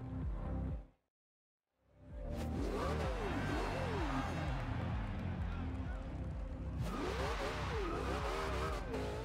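In the Forza Horizon 2 video game, a Porsche Carrera GT spins its tires off the line, with loud engine roar and wavering tire squeals. The squeals come in two bursts after a brief moment of silence near the start.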